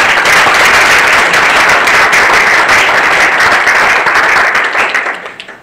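Loud, sustained applause from a conference audience fills the hall for about five seconds, thick and even, before tapering off at the end.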